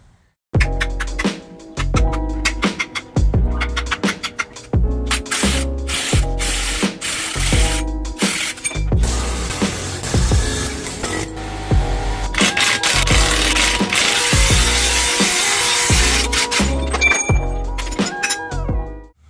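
A Jeep Cherokee XJ front-end part is spray painted with semi-gloss black paint, giving loud, close hissing bursts broken by clicks and knocks, then a long steady spray near the end.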